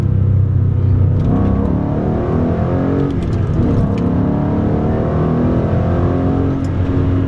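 A 2014 Mustang muscle car engine rumbles loudly and steadily up close, a deep continuous growl with no voices.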